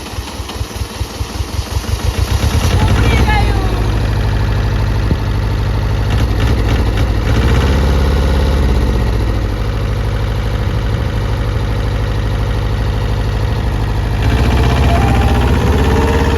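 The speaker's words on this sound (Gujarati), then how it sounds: "ટ્રેક્ટર ચાલુ થઈ ગયું છે" A tractor engine cranks and catches in a tomato field, then settles into a loud, steady idle with a deep rumbling throb that continues to the end.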